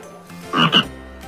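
A frog croaks twice in quick succession, close and clear, standing alone against a quiet background.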